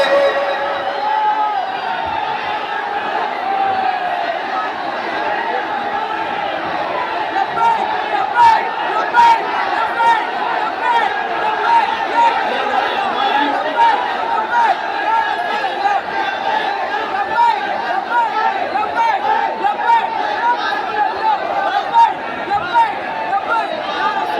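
A large gathering at an Urs event roars with sustained crowd voices chanting and shouting together, a dense, fairly loud wall of sound that carries steadily throughout.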